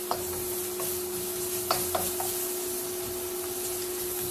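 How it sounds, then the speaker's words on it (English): Onion being stirred and scraped around a hot wok for a peanut butter chicken stir fry, a soft steady sizzle with a few light utensil scrapes and taps against the metal. "Do a bit of a scrape around in the wok."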